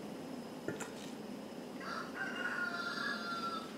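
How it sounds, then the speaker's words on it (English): A distant rooster crows once, faint and drawn out, over quiet background hiss with a brief click earlier. "you could hear my rooster out there crowing"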